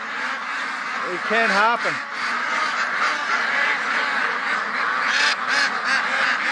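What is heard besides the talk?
ducks quacking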